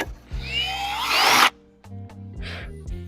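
A power drill bores holes in a carbon fiber bumper on an Audi RS3, a short rising whine under load that stops sharply, followed by a brief second burst amid a faint background hum.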